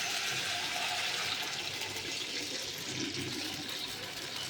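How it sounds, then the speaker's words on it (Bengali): Lentils (dal) are poured into a hot pan on a gas stove, giving a steady, close sizzling and watery hiss that lasts throughout without breaks or talking. "এবার ডালটা আমি এর মধ্যে ঢেলে দেবো।"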